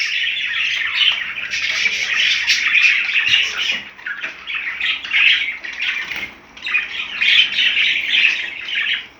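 Home-bred budgerigars, white and blue siblings, chirp and squawk continuously in a cage, a busy, dense chatter of overlapping calls with brief lulls.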